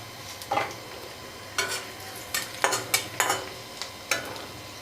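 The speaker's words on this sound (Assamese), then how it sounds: "এতিয়া ইয়াতে পাঁচফোৰণ অকণমান দি, এয়া পাঁচফোৰণ দি দিছোঁ" Panch phoron spices hitting hot oil in a pan on a low gas flame, quick crackling bursts and short sizzles coming in irregular spurts over a faint steady hiss.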